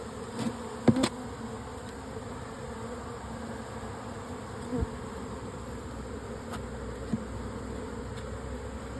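Honeybees at an open hive during an inspection, a soft continuous buzzing hum close by with a few faint clicks and knocks, no talking.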